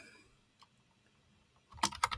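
Typing on a computer keyboard while searching in a software tool library: after a quiet stretch with one faint tap, a quick cluster of several crisp, close key clicks near the end.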